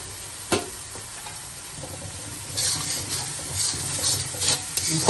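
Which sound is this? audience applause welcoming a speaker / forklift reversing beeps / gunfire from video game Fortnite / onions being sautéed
onions being sautéed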